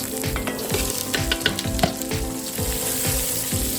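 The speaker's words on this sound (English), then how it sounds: "Fry these in the butter until the carrots are soft." Carrots and celery frying in melted butter in a cast iron pot, a steady close sizzle with soft stirring scrapes recurring throughout and no talking.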